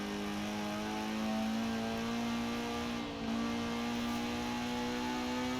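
A 1960 Porsche 718 RS 60 engine drones steadily at high revs in Forza Horizon 4, a loud sustained buzzing tone with a brief dip near the middle before resuming.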